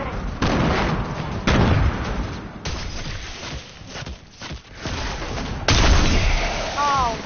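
Turret gunfire in the Fortnite video game comes in loud, abrupt bursts separated by short gaps, with booming impacts. Faint in-game sounds sit between the volleys.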